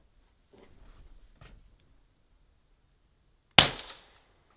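A single sharp crack from a silenced .22LR rifle, close and brief with a quick decay, comes after a few faint low shuffling sounds in otherwise quiet surroundings.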